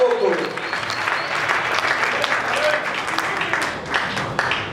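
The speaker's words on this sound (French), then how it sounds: "Est-ce que quelqu'un peut donner des acclamations?" Sustained applause from a church congregation during a Sunday service, dense clapping filling the room steadily throughout with some voices mixed in.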